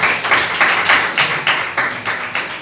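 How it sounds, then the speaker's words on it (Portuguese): Church congregation applauding in worship, steady rhythmic clapping in even pulses, loud and close, a full room of hands beating together in time. "aplaudam a Ele, aleluia"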